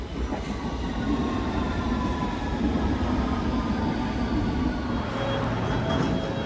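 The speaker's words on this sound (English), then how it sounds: "And a southbound train just about to come in." A London Underground Metropolitan line train rumbles in southbound, a loud steady low roar of wheels and motors at close range, with faint metallic squeal tones rising toward the end.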